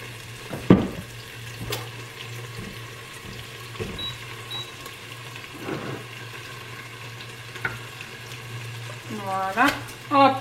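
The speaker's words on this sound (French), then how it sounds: "Je vais venir mettre mon poulet, en fait. Et le laisser cuire à feu doux pendant 3 minutes." Chicken cooks in a pan over low heat with a soft, steady sizzle and occasional stirring clinks; a low hum sits underneath, and a busier burst of scraping comes near the end.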